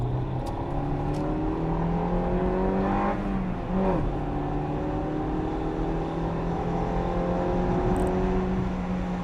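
A Honda Integra Type R engine revs up to about 6,500 rpm, heard from inside the car. The note is loud and steady, with pitch sweeping up and down as it accelerates and shifts.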